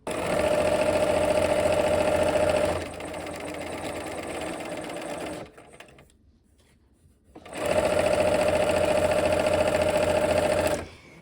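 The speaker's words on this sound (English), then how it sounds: "let's go ahead and sew" A sewing machine stitching quilt seams runs in loud, steady whirring bursts, slowing briefly, pausing near the middle, then resuming at full speed, heard up close.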